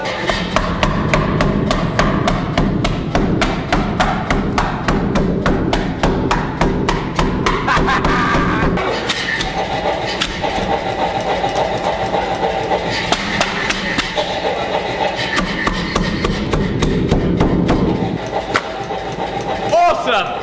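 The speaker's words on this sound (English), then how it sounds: "This is just awesome to have this Anyang power hammer up and running." An Anyang power hammer forging metal in a workshop pounds in a fast, steady rhythm of loud mechanical blows, with people talking over it.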